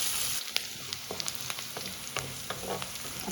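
Garlic and onion sautéing in a pan for a dhaba-style capsicum curry, a steady soft sizzle with occasional stirring scrapes, close and fairly quiet, no voices.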